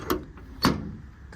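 Ball-bearing cabinet drawers on a 2020 Kenworth T270 truck with an HC12 Autocrane slide, giving two short, sharp sliding clunks about half a second apart, each fading quickly into quiet.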